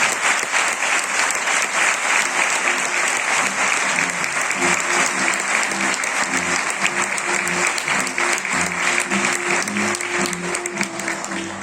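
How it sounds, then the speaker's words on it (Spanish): Sustained applause from a large audience at an awards ceremony honoring religious brotherhood members, steady dense clapping throughout with a faint murmur of the crowd underneath. "vamos a darle un aplauso a Julio también."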